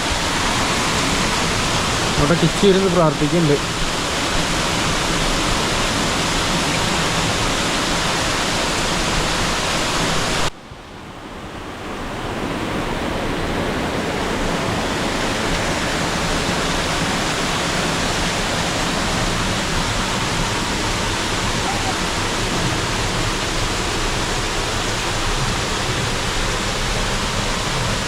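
Steady roaring rush of a waterfall beside a quiet temple at Baba Dhansar, loud and continuous throughout, with brief speech early on and a sudden dip in the roar partway through.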